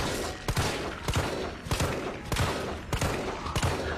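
Gunfire in the Resident Evil 3 Remake on PS4, a steady string of sharp shots cracking at a regular pace, roughly every half second, over a dense, noisy background.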